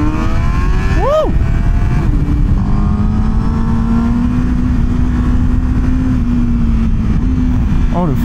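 A Honda CBR1000RR-R SP motorcycle cruises Swiss roads, heard onboard as a loud, steady engine drone with a rising whine during a quick rev and a constant rush of wind.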